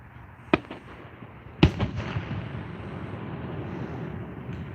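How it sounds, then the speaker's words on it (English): Canada Day fireworks in Ontario go off as two sharp distant bangs followed by crackling rumble, with a low crowd murmur underneath. "this is proper Ontario Fireworks for Canada Day"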